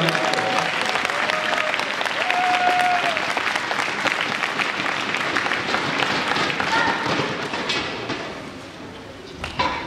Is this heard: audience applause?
yes